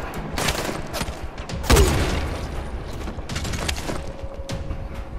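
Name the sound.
gunfire in the video game Dying Light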